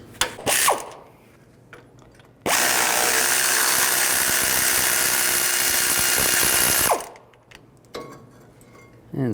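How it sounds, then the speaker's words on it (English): A ratchet with a 21mm socket works on the front brake caliper bracket bolts of a Ford E-250 van, one loud, continuous mechanical whir of about four seconds, with quieter handling noises before and after. "Take these two bolts out for the brake caliper bracket."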